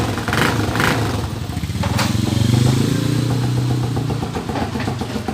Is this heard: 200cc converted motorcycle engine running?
yes